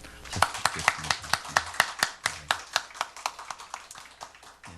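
Church congregation clapping in thanks for a pianist who accompanied the service: a modest number of hands producing distinct, fairly regular claps that stay close and clear, gradually softening toward the end.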